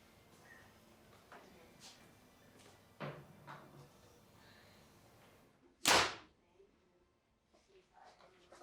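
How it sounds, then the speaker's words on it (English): An arrow from a 2024 compound bow hunting build is shot through paper, giving one sharp, loud snap partway through. Quieter clicks and handling noises come before it. "That's just as the arrow went through the paper."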